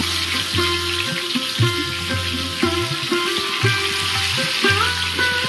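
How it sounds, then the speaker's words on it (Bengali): Steady crackling sizzle of pomfret fish frying in hot oil over medium flame, with clinks and scraping of a utensil in the pan throughout. "তেলটাকে ভালো করে গরম করে নিয়ে এবার মাছগুলো তেলের মধ্যে দিয়ে দিচ্ছি।"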